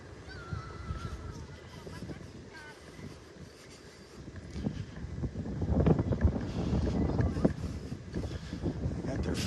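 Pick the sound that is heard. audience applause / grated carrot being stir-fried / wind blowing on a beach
wind blowing on a beach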